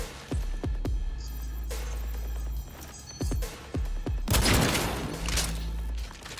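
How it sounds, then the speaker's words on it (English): Gunfire in the Cyberpunk 2077 video game, a series of loud close shots in quick bursts with sharp cracks and booming low tails, followed by a burst of crackling noise, no voices. "I'm shooting him in the head, but he's surviving."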